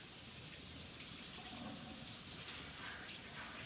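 Tap water runs steadily into a kitchen sink while mushrooms are rinsed, a constant soft splashing hiss that continues evenly throughout without pause.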